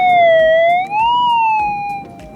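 A Minelab GPZ 7000 metal detector gives a steady, loud target tone that rises and falls in pitch as the coil sweeps over a buried target, with faint footsteps and rustling beneath.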